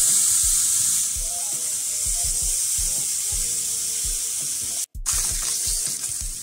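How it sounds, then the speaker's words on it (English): Sliced Spam frying in a pan, a steady bright hiss of sizzling fat close by, with low thumps and clatter throughout and a brief dropout near the end. "Fry up our Spam."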